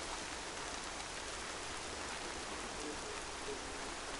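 Steady rain ambience in a video game: a dense, even hiss of falling rain holds at a constant level throughout, with no voices.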